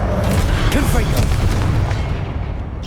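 A Confringo fire-blast spell explodes in Hogwarts Legacy with a loud, sustained booming burst that rolls on and slowly fades, with game noise underneath.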